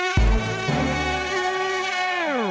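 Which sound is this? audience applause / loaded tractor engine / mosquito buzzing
mosquito buzzing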